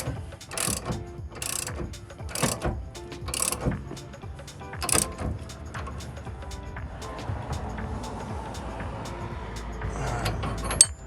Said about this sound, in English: we can put our ratchet and socket on here to tighten it down